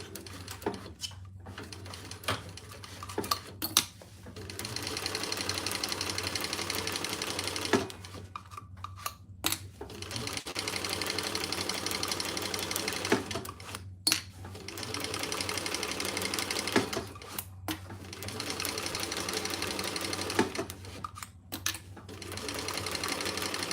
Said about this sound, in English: I'm going to put 2 rows of stitches across the top